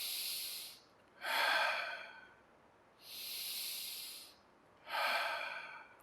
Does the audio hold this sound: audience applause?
no